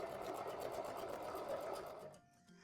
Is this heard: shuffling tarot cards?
no